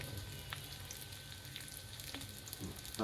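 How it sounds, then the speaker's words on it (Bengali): Onion, garlic and chili fry in a pan for a quick carrot, bean and potato bhaji, giving a soft, steady sizzle with a few light scrapes, fairly faint and close. "হালকা বেগুনি কালার হওয়া পর্যন্ত পেঁয়াজ, রসুন এবং মরিচটি ভেজে নিব"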